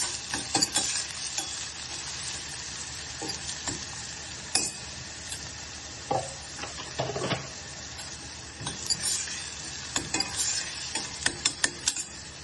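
Chopped onions fry with a pinch of salt in a pan for vegetable upma, giving a continuous hissing sizzle with intermittent scraping and clattering stirs, close and steady without any talk.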